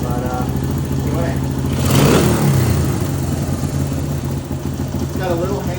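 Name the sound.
1975 Honda XL125 motorcycle engine revving, running lean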